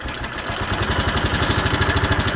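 Bennche 500 UTV engine with a knocking, smoking motor idling close up, a steady low rhythmic chugging pulse with a slight uneven throb.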